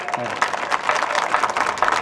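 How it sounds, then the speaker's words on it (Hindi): A hall audience at a Hindi comic poetry gathering gives dense, sustained applause that stays loud and steady throughout, with a voice faintly mixed in. "एक बार पूरा सदन जोरदार तालियां बजाए"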